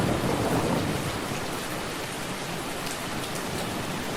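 Rain and thunder at a rain-soaked spa, a dense, constant wash of heavy rainfall with a low thunder rumble underneath, loud and close with no voices.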